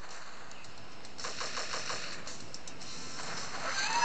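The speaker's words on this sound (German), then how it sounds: "Also jetzt haben wir schon so eine Art Granatwerfer hier dabei." Rapid mechanical bursts of grenade launcher fire in the mobile base-defense game Dark Kill, over a steady background hiss, loud and close, with a brief pause midway and a second burst near the end.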